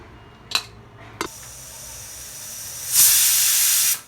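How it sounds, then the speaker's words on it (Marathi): A pressure cooker of dal on a stovetop lets out a loud, steady hissing whistle for about a second. A couple of brief clicks come before it. "हे अशा शिट्ट्या फायला लागल्या आता"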